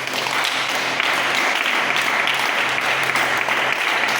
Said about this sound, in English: Let's clap for Jesus Christ.